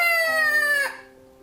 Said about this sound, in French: que le coq eut chanté